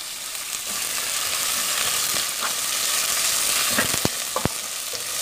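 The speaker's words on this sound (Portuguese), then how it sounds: "Agora eu vou colocar a cebola, vou deixar ela dar uma murchadinha." Onion sizzles and fries in a hot pan for bacalhau à brasileira, with a steady crackling hiss. A few sharp clicks of stirring sound near the end.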